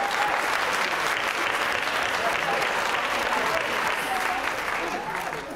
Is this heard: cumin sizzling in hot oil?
no